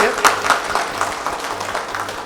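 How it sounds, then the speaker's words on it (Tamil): A seminar audience on business loans gives itself a round of applause, a steady wash of clapping over about two seconds, moderately loud, with a voice speaking over it. "நீங்களே உங்களுக்கு ஒரு பெரிய கைத்தட்டு கொடுத்துக்கலாம்"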